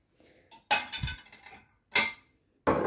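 Plates being unloaded from a dishwasher and stacked, with three distinct clattering bursts of ceramic clinks separated by near silence, close and fairly loud.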